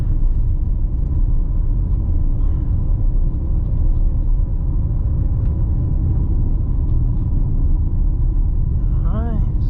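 Steady low road rumble inside an MG ZST 1.3 turbo driving over a rough road, continuous tyre and cabin noise with faint engine hum, a voice speaking over it.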